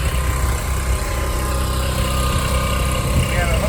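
A pump hooked to the sump drain of locomotive RPDX 6215's fuel tank drains diesel fuel, producing a steady, loud, low mechanical hum with constant vibration close by.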